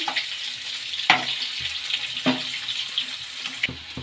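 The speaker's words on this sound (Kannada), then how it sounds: "ಒಂದು 3 ರಿಂದ 4 ನಿಮಿಷ ಫ್ರೈ ಆಗಬೇಕು ಎಣ್ಣೆಲೆ. ಚೆನ್ನಾಗಿ ಹಿಂಗೆ ಫ್ರೈ ಮಾಡ್ತಾ ಇರಬೇಕು." Small potatoes fry crisp in hot oil, a continuous bright sizzle with a few louder crackling bursts as they are turned, with no talking.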